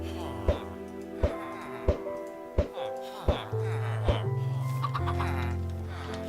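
Chickens clucking in the Minecraft video game, a series of short sharp clucks repeating about every second, followed by a denser stretch of game sounds, with no speech over them.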